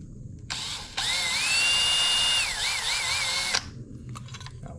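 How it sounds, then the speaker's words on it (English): A power drill bites into thin metal on a 1923 Fairbanks Morse Z hit-and-miss engine with a loud, steady whine that wavers and dips near the end, then cuts off, leaving faint clinks. "So I'm gonna drill that out, and hopefully it fits pretty good."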